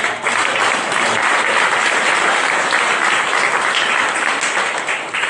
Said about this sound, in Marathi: एकदा टाळ्या वाजवून